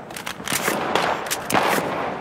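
An LSAT light machine gun fires in Battlefield 4, with several loud, sharp bursts spaced through a couple of seconds. The shots sit close and up front, no voices.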